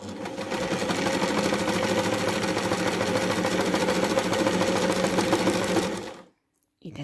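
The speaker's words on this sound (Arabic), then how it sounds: "هنا ها هي الماكينه ديالنا من اللور خدامه مزيان ومن القدام خدامه مزيان" A sewing machine, a serviced Anker 328B, runs zig-zag stitches continuously for about six seconds as a steady, close whirring rattle, then stops abruptly into near silence.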